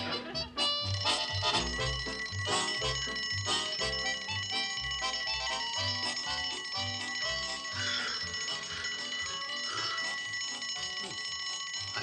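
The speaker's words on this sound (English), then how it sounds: "I do believe Elsie's tinkling her little bell." Small hand bell tinkling continuously at a steady, fairly loud level, with rapid repeated bright rings throughout.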